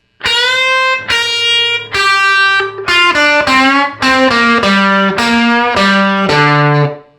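A distorted electric guitar plays a slow blues lick, long sustained bent notes followed by a descending run of separate notes, loud and close.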